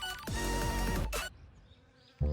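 Japanese honeybee scouts buzz around a hive box set under wooden deck stairs: a loud, close drone swells and shifts in pitch as a bee passes, drops away to near quiet, then returns sharply at the end.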